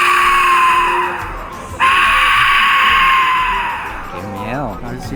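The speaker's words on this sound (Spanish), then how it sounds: "Es una eucarina, este es el sonido de la muerte." Aztec death whistle, a clay ocarina-style instrument played by a performer, lets out a loud, sustained shrieking wail like a human scream, re-blown midway and fading into a wavering, warbling tail.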